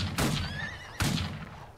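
In Outlaws of the Old West, a horse gives two sharp, close whinnies about a second apart. Each one starts with a breathy burst and then wavers upward, and nobody talks.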